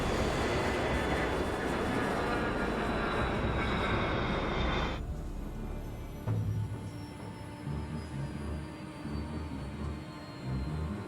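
Airbus airliner roaring loudly on final approach, a dense close engine rumble that cuts off abruptly midway into a quieter, muffled cabin-like drone with faint thumps.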